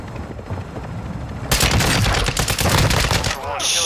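Rapid automatic gunfire bursts erupt in Call of Duty DMZ, loud and dense, following a stretch of quieter gameplay noise, with sharp repeated shots clustered over a couple of seconds.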